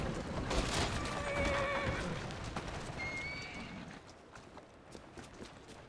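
A horse in the video game Assassin's Creed Syndicate whinnies twice, high and wavering, over a dense, busy background of noise and clatter; the neighs stand out clearly before fading.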